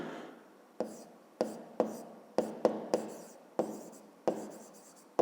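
Handwriting, scratched out in a rapid series of about ten crisp, close strokes that start and stop in an uneven rhythm, with no talk over them.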